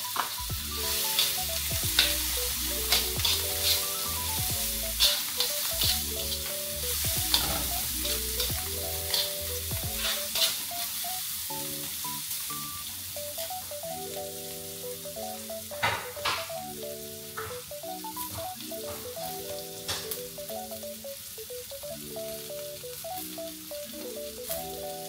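Olives and onions sizzle hard in a frying pan for tuyo pasta, a steady loud crackle running throughout with stirring scrapes and a plucked-string music bed playing alongside.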